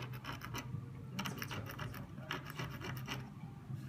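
A jeweller sharpens a bead-setting tool with quick repeated rasping strokes, short scratchy bursts in an uneven rhythm, close and fairly quiet, with no talking.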